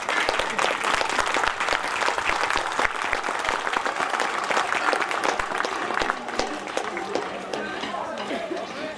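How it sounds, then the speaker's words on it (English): Audience at a school annual function applauding, a dense, steady burst of many hands clapping that carries on for several seconds before thinning slightly toward the end. "I request you to please once again applaud the efforts of a budding artist."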